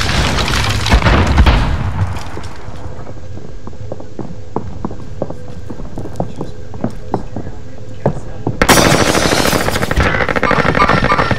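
A frag grenade blast opens with a heavy boom in Warzone, followed by a long run of evenly spaced, fairly quiet gunshots, then a loud dense burst of noise and shooting near the end.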